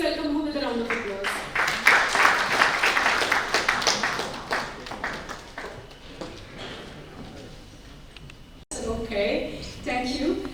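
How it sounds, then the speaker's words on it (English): An audience claps to welcome a speaker to a technical session, a scattered patter of hands that swells and then thins out, with a voice talking over the start and again at the end. "Please welcome her with a round of applause"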